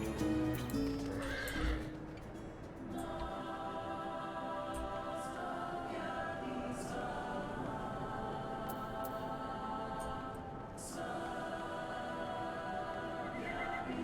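A horse in Final Fantasy XIV whinnies and neighs over steady clip-clopping hooves, with layered game music and ambience running throughout at a fairly constant level.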